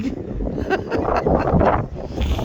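Strong gusts of wind buffet the microphone at a harbor in the morning in a continuous rumbling roar, with faint water and rustling underneath.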